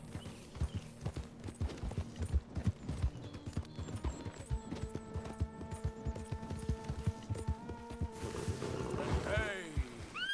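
Horse hooves galloping at a steady clip-clop in the Red Dead Redemption 2 video game, rhythmic and close, with someone speaking over them and music in the background.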